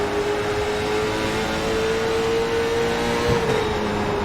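Late model stock car engine in the iRacing racing game drones loud and steady at high revs as the car laps, with a slight pitch rise and fall near the end.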